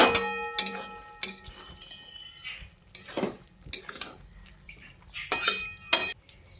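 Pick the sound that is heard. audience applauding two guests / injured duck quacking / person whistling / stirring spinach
stirring spinach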